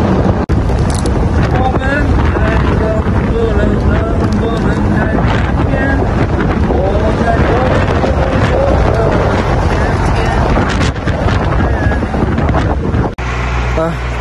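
Loud, steady wind buffeting a microphone while riding along a road in Jinzhou, Liaoning, a continuous rumbling roar that fills the whole stretch with a brief dip near the end.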